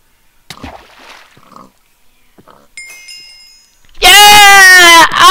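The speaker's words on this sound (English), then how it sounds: "Oink oink, oink oink, oink oink, oink." A Minecraft pig oinks and squeals loudly near the end, following quiet taps and game sounds in a Block Hunt minigame.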